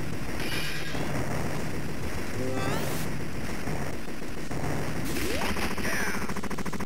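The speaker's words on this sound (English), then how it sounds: "you're going to spend the majority of this section gunning down enemies from every which direction" Rapid arcade gunfire from Total Carnage, a sequel to Smash TV, as enemies are mowed down from every side: dense, continuous machine-gun bursts with explosions and game effects, loud and unbroken throughout.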